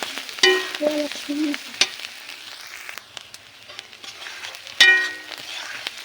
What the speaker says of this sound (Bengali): এভাবে কিছু সময় মশলা নেড়ে চেড়ে নিতে হবে।